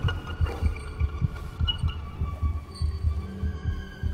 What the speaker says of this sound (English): Okay, the heartbeat's getting louder.